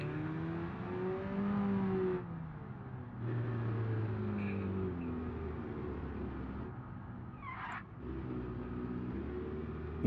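A car engine in BeamNG hums and revs steadily, pitch rising and falling as it shifts, with brief drops between gears.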